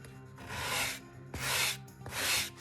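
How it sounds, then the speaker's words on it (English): A wooden chair part sanded by hand, three long rasping strokes with short pauses between them, close and fairly quiet with no talk. "Maybe if I hold this straight and sand it,"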